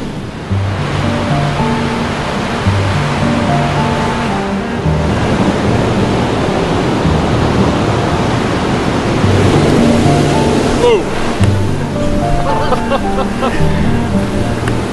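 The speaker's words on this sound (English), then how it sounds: "That's what they call those sneaker waves, I think." Sneaker waves surging and crashing on a beach, a loud continuous roar of surf with rising and falling swells and a heavy wash of broken water, no one speaking.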